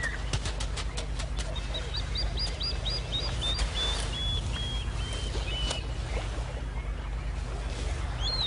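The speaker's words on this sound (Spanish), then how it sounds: "Y los alborotados chorlitos le declaran la guerra inmediatamente." Plovers call in alarm at a monitor lizard in the wild, a run of sharp repeated chirps rising over steady low background rumble, fairly close and persistent.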